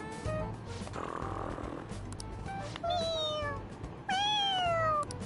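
A cat sleeping in Persona 5 Royal makes soft snoring and murmuring sounds, with clear rising and falling meow-like cries near the middle and end over a steady game background.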